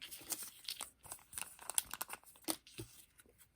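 Origami paper being folded and creased into flaps for a Sonobe cube, a run of soft, close crinkles and papery crunches in quick irregular bursts.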